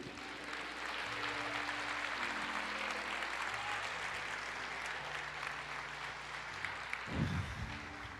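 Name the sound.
congregation applauding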